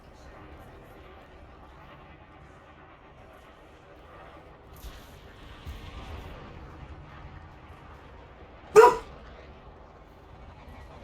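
A dog gives one short, sharp bark, loud and close, partway through a long stretch of low, murmuring background sound.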